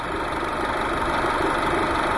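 A car engine idles at about 800 RPM while driving an alternator through pulleys for a wind-turbine generator test, giving a steady, close mechanical drone with faint vibration and no talking.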